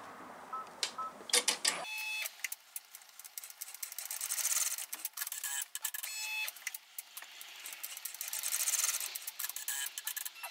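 An embroidery machine stitches the holding lines for a pocket on an in-the-hoop wallet, with fast rhythmic needle chatter running steadily after a brief rattle of handling.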